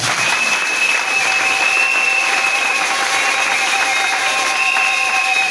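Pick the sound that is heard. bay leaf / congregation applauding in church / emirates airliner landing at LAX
congregation applauding in church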